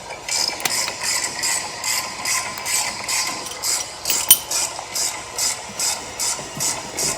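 A ratchet runs down the caliper mounting bolts on a Chevy truck brake in quick, evenly spaced bursts of clicking, close and fairly loud, with one sharp metallic clink partway through.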